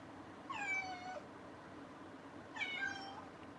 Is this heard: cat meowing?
yes